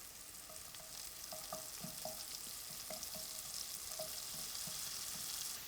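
Roughly chopped tomato and spices fry in a pan at a cookery showcase, a steady soft sizzle with faint stirring clicks and scrapes throughout, no voices.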